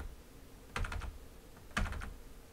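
Computer keyboard shortcut keys like Ctrl, Shift and Alt are pressed while working in ZBrush, giving two quick clusters of soft, close key clicks about a second apart over quiet room hiss.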